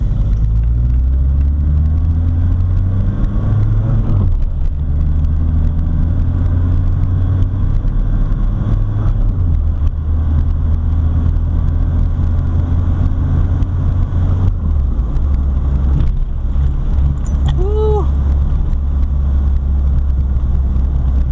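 A 1979 VW Rabbit with a 1.6-litre diesel engine pulls under heavy throttle, a loud, close, steady rumbling drone from inside the car that shifts in pitch as it accelerates, with no talking.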